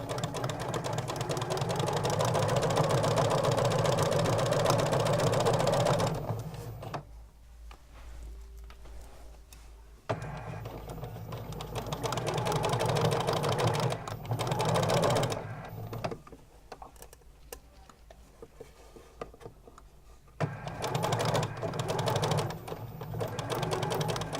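Sewing machine stitching bunting fabric, the steady mechanical whir running in long bursts with brief pauses between them, close and fairly loud.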